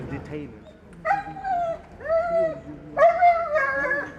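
A border guard dog barks and yelps in short bursts during an outdoor detention demonstration by border guards at Zamkova Hill in Zhytomyr, with close, loud barks and a voice speaking alongside.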